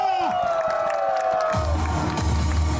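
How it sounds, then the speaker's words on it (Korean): A baseball stadium crowd at a Hanwha Eagles game at Sajik Baseball Stadium in Busan swells into a loud, broad roar of cheering and clapping, following a brief tonal opening. "힘찬 박수와 함성을 아낌없이 부탁드리겠습니다"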